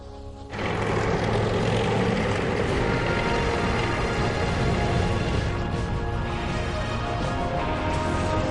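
Helicopters flying during large Vietnam War search-and-destroy offensives: a loud, continuous engine and rotor roar that starts abruptly after half a second and holds steady throughout, with no voices.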